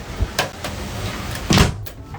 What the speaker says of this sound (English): slidey door